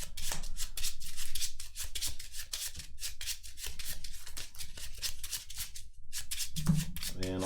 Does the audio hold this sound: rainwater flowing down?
no